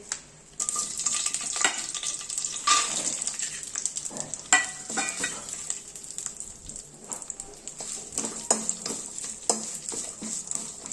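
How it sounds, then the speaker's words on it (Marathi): Garlic, green chili and ginger sauté in about a spoonful of oil, giving a bright, continuous sizzle close up with frequent spoon scrapes and clinks against the pan. "लसूण, मिरची, त्यानंतर आलं, हे सगळं छान अगदी 1च चमचा तेलावरती थोडंसं परतून घ्यायचंय"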